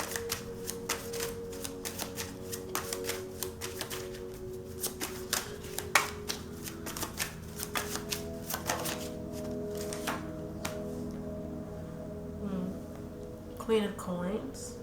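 Tarot cards are shuffled and handled in quick, irregular riffling bursts and taps, close and moderately quiet, with a voice speaking over them at times.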